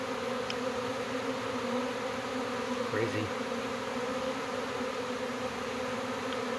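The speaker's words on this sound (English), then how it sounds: "wow, that's a lot of bees." A dense swarm of honey bees buzzes loudly and steadily at a hive in early swarm season, a continuous close drone throughout with a brief spoken exclamation partway through.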